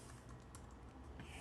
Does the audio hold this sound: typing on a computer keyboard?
yes